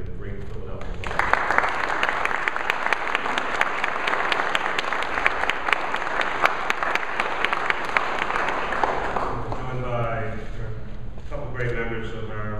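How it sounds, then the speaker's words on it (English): Philadelphia audience applauding the U.S. Attorney General at a public grant event: sustained crowd clapping for about nine seconds, dense and loud, then fading as a voice begins speaking over the tail. "Can we please give him a great Philadelphia applause?"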